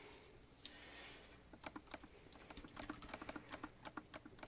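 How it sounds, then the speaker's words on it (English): Card-making table shaking and rattling with a rapid run of small clicks and taps, irregular and fairly close, growing busier toward the end. "Sorry about the shaking table."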